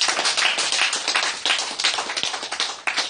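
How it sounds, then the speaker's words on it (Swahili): A church congregation at a Bible study claps for the Lord, with dense, continuous, loud applause and many overlapping hands. The clapping is steady and close, with a few sharper claps standing out. "Basi nisikie makofi kwa ajili ya Bwana"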